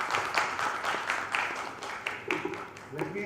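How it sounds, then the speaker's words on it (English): Audience applause rises at an International Mother Language Day ceremony as a professor is called up to the dais: a steady patter of many hands at moderate distance, with a voice talking faintly beneath. "Huge round of applause, everyone"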